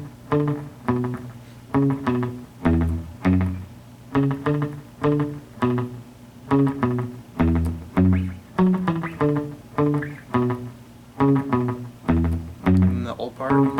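Guitar riff from a song, with the old and new parts played back to back as repeated rhythmic chord phrases. It is close, steady and loud, with no voices over it.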